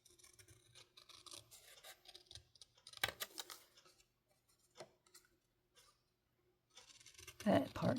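Scissors trim paper for a handmade pocket envelope, giving short, close snips and rustles that come in small bursts with quiet gaps between them.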